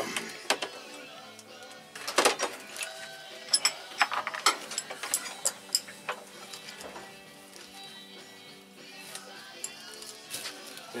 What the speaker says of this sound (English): So you just unscrew all these screws.